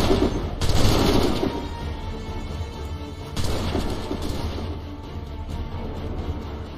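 Musket volleys crack out in the Assassin's Creed III battle at Lexington and Concord, two loud bursts of massed gunfire about three seconds apart, each rolling off into a rumbling echo over continuous battlefield din.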